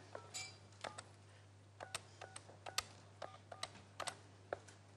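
A string of telephone dialing tones sounds during a Swedish TV lottery show, each keypress a short crisp beep, spaced irregularly with brief pauses over a faint steady hum.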